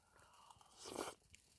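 Chewing a bite of oatmeal with crunchy almonds and cranberries while winter camping in a hot tent, a quiet, close crunch swelling briefly mid-clip amid soft mouth noises.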